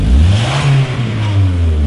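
A Golf's engine revs up close while held in place with brake and throttle together, the low growl rising and dipping briefly before climbing again, loud and steady.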